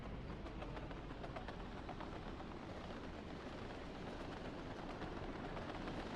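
A steady rumbling train run from the game Workers & Resources: Soviet Republic, continuous rail noise with faint clickety-clack rhythm at low level.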